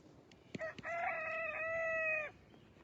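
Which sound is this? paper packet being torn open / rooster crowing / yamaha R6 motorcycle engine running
rooster crowing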